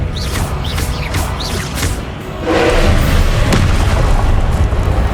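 A spell cast in Hogwarts Legacy, a Harry Potter video game, goes off as a heavy booming impact with a crashing rumble that swells and holds loud, following a few short whooshing effects.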